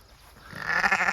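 A single sheep bleats close by on a grassy pasture bank, one rising wavering call.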